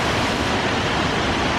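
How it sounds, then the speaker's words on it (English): Hidden Falls, a big waterfall in northwest Montana, pours with a dense, constant roar of rushing water heard up close, steady and loud with no voices. "Big waterfall runs up there."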